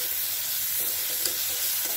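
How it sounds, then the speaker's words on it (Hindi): Mustard and ginger paste frying in oil for a fish gravy, a steady close sizzle with faint stirring, alone without voices. "सरसों और अदरक का पेस्ट को हम दे के इसको जब तक इसमें तेल नहीं छोड़े तब तक इसको भूनना है"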